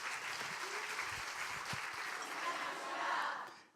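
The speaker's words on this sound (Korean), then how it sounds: "나오실 때 큰 박수로 우리 목사님 환영하겠습니다." A church congregation at a Sunday evening worship service claps steadily to welcome the pastor, a broad wash of applause that swells slightly near the end before fading, with a few faint voices beneath.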